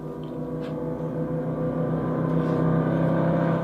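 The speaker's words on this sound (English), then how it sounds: "that car sample." A car engine sample from Depeche Mode's "Behind the Wheel": a steady, fairly loud motor drone that rises slightly in level, heard alone.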